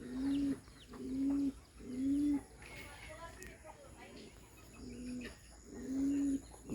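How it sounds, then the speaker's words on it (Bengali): A Rajshahi Giribaj highflier pigeon coos close by in five deep, throaty bursts, each about half a second long, separated by short pauses. "আর সেই গিরিবাজ যে ডাকে"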